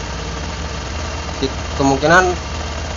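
A Honda Vario 150 scooter engine idles with a steady low hum while someone talks over it in Indonesian.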